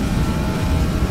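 Airliner engines at takeoff power in Microsoft Flight Simulator X, a loud, steady low roar that holds evenly throughout without talk.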